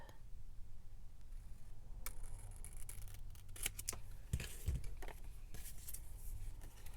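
Scissors snip and trim a paper card for a junk journal pressed flower craft, a few faint crisp cuts clustered in the middle over a low background hum.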